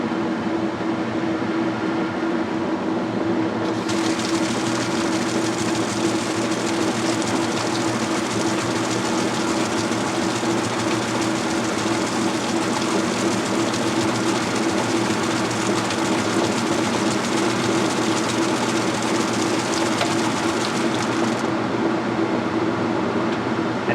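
A Whirlpool direct drive washing machine runs a spray rinse, giving a steady, loud mechanical hum and whirring drone with a broad hiss of water spray that starts a few seconds in and continues for most of the clip, with no talking.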